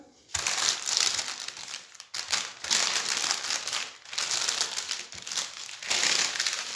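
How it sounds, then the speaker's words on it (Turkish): Baking paper crinkles and rustles as a rolling pin rolls out cookie dough between two oiled sheets, in steady repeated strokes with brief pauses, close and fairly loud. "üzerine tekrardan yağlı kağıt kapatıp oklavayla açacağım"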